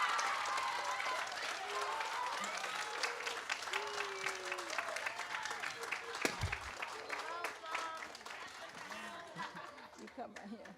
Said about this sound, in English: Everybody give a round of applause to Mr.